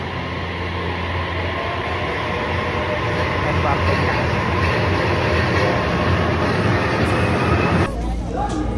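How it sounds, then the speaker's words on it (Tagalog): A JR train in Japan rumbling past close by, a steady loud roar of wheels on rails with faint clicking, continuous for several seconds before the sound shifts near the end. "Ito yung train ng GR."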